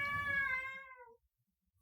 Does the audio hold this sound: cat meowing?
yes